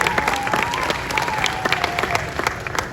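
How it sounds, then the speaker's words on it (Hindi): Steady, dense clapping from a crowd at a community convention in Delhi, sustained for the whole stretch with a faint tone lingering underneath. "एक बार जोरदार तालियां उनके लिए"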